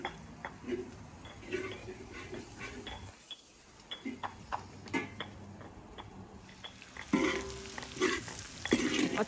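Onions stirred and cooked in a pan over an outdoor wood fire for a Nepali-style pork curry: steady frying sizzle broken by frequent scraping and clinking spoon strokes, close and moderately loud.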